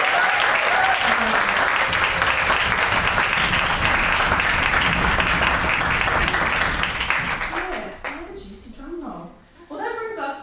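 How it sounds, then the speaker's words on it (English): An audience at a spoken word poetry slam heat in Fitzroy Library, Melbourne, breaks into loud, sustained applause for the poets that fills most of the moment, then fades as a voice begins speaking near the end. "let's applaud all the poets who have shown up for themselves tonight"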